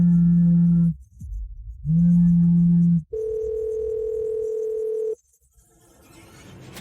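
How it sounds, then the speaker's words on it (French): A telephone signal sounds in steady tones: two long low beeps with a pause between, then a longer higher tone, loud and clean, with no talking. "décroche le téléphone."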